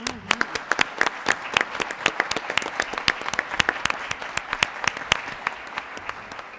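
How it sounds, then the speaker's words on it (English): Audience applause at a school board of education meeting, a steady run of sharp claps from a modest crowd lasting several seconds, fairly close and clear. "That deserves a huge round of applause."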